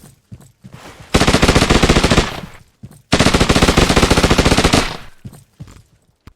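Two long bursts of rapid automatic fire from an SMG submachine gun in a Unity shooter asset, each lasting about two seconds with a short gap between, loud and close with no speech.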